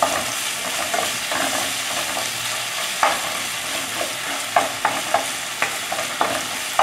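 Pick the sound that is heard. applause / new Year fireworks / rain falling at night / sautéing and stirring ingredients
sautéing and stirring ingredients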